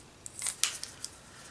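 A few quick paper snips from scissors trimming a small overhanging piece off a craft page, several short crisp cuts in close succession, near and fairly quiet.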